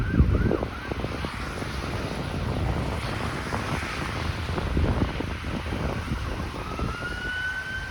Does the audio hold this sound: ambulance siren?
yes